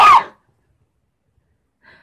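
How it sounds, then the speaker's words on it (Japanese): One short, sharp sneeze bursts out at the start of a winter romance scene, then near silence follows with a faint brief sound at the very end. "君が君がくしゃみした瞬間に"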